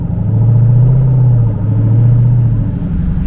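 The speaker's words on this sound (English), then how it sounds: "with a beautiful supercharger whine as you're accelerating" A 2023 Dodge Hellcat tuned to 717 horsepower accelerates hard, its loud supercharger whine rising over a deep engine rumble, steady and close throughout with a brief dip midway.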